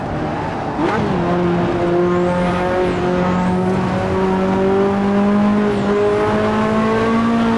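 Race car engine droning steadily in the driving game Assetto Corsa, a sustained loud tone holding pitch as the car drives, with a brief shift early on and faint high whines above.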